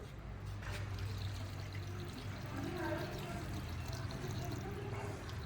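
Steady water pouring from a tap, a continuous splashing stream with voices talking quietly in the background.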